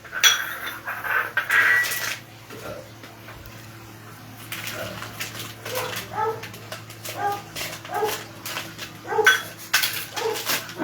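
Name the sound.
cutting Amul malai paneer with a knife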